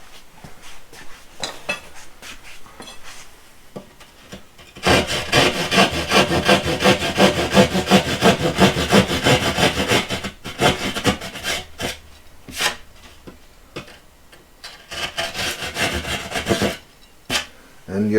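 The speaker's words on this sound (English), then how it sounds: "And yes, this is a drywall saw." A handheld drywall saw rasps through a drywall panel in a long burst of loud, rapid back-and-forth strokes, followed by shorter intermittent sawing passes, all close by.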